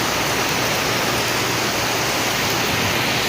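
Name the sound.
rain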